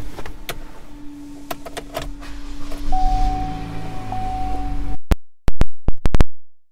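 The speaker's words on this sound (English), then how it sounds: "power moonroof." A power moonroof on a 2015 Chevrolet Malibu LT whirs open with a steady electric motor hum inside the cabin, followed by several sharp clicks and clunks near the end.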